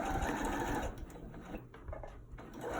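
A sewing machine stitches along the edge of a pocket, a fast close rattling run that stops about a second in, followed by quieter intermittent clicks and handling sounds before the stitching resumes at the end.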